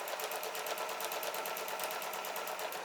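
A sewing machine stitches a quilt block seam with a fast, even rhythmic whir of needle strokes, close and steady throughout with no talking.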